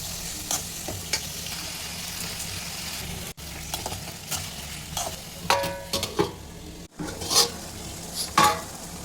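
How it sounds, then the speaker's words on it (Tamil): Tomatoes sautéing with salt in a pan: a low continuous sizzle broken by bursts of stirring and spatula scrapes against the pan, close by, with two brief dropouts. "தக்காளி எடுத்து போட்டுக்கலாங்க. தேவையான அளவு உப்பு போட்டு நல்லா வதக்கி விட்டுக்கலாங்க."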